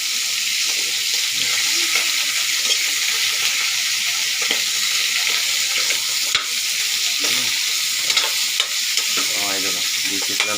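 Ingredients sauté in a hot pan with a steady, loud sizzle and frying hiss throughout, punctuated by stirring scrapes and clinks of a utensil, close up with no talking.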